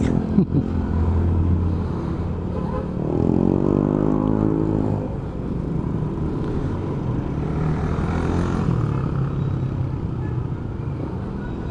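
Steady road traffic in a congested stretch, a broad continuous rumble of car and motorcycle engines with a rising engine note passing close by midway, no talk.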